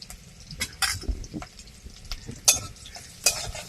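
Chopped ginger frying in a pan for a vegetable dish, sizzling close by with irregular spoon scrapes and clinks against the metal, no talk.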